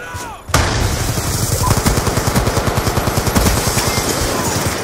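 Sustained automatic gunfire in a team deathmatch shooter video game, a long rapid burst of rhythmic shots starting abruptly after a brief quiet moment and running loud and close to the end.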